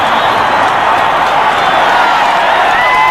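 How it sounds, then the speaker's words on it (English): A big football stadium crowd at a 1980 Cowboys–Eagles game roars in a dense, constant wall of cheering that fills every moment at high volume. "Listen to the crowd."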